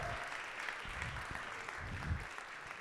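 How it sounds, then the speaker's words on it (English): Scattered applause from an audience at a live mastermind event, soft and somewhat distant, a steady patter of clapping with a few louder claps standing out across the short stretch. "1, 2, 3, round of applause for the crew."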